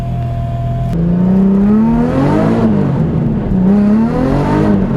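A car engine idles, then revs up and down in loud rising and falling sweeps at a winter drifting event, heard up close from inside the car.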